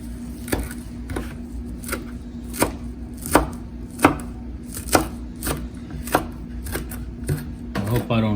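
Parsley being chopped with a knife on a board for chimichurri, a series of sharp, irregular thuds and taps over about eight seconds, close and crisp, with a low steady hum underneath.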